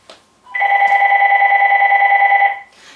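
An old-style telephone bell rings in one continuous trilling burst lasting about two seconds, loud and close, with brief quiet noises around it.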